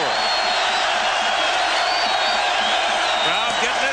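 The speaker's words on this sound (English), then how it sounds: "Crowd getting into it." Stadium crowd at a 1989 college football game, #3 Michigan at #8 Illinois, roaring steadily and loudly through the whole stretch as a dense, sustained wash of voices with a commentator talking over it.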